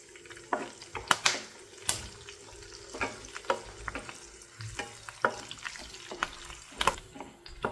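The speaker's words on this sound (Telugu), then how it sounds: "ఆవాలు, అలానే సన్నగా తరిగి పెట్టుకున్న పచ్చిమిర్చి, అలానే ఒక రెమ్మ కరివేపాకు ఇవి వేసుకుని ఫ్రై చేసుకోవాలి" Mustard and cumin seeds, finely chopped green chillies and a sprig of curry leaves frying in oil for a drumstick masala gravy: a soft sizzle broken by repeated sharp popping crackles and spattering bursts, close up, no talk.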